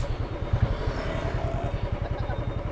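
A Royal Enfield Bullet 350 Classic motorcycle running while being ridden, its single-cylinder engine giving a steady, loud, low thumping beat throughout with no voices.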